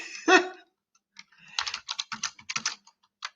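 Quick bursts of keyboard typing, a few isolated key taps followed by a rapid run of clicks, close and clear.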